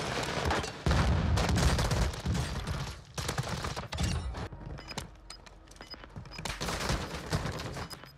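Rapid bursts of video-game gunfire in a first-person shooter, loud and dense at the start, then broken into scattered shots and volleys with mechanical clicks between them, no voices.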